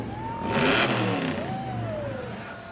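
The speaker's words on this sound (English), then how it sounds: "This is a monster of a truck right here." A large Waupaca County Highway Department truck rumbles past in a Fourth of July parade, its engine swelling briefly and then settling to a steady drone while a high tone sweeps through.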